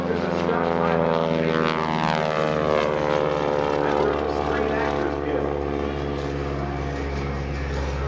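A stunt plane flown at the 2017 NAS Oceana airshow drones loudly and steadily overhead, its propeller engine holding a strong, continuous tone for several seconds as a voice talks over it.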